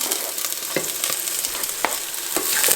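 Garlic and onion sauté in a pan with a steady, close hiss of frying. Brief scraping strokes from stirring break through at a loose rhythm.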